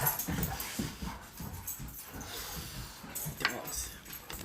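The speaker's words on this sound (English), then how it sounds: "Dogs." Several dogs whimper and pant in short, uneven bursts close by, with a faint clink of dishes and cutlery in the background.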